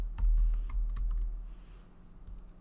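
Computer keyboard being typed on while entering a file name in Photoshop, a quick run of close, crisp key clicks in uneven bursts over a low room hum, no voices.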